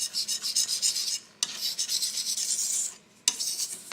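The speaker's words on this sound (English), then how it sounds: "So we're cutting off a bit of paint from the lump" A palette knife scrapes and cuts paint off a lump on a palette: close, raspy rubbing strokes in quick bursts with two short pauses, no voices.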